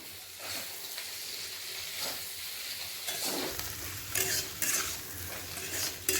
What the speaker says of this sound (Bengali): এখানে ভাজা করছি এখনও